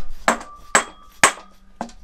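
Four sharp hammer strikes on a motorbike engine part, evenly spaced about half a second apart, each a bright metallic knock with a short ringing tail, close and clear with no talk.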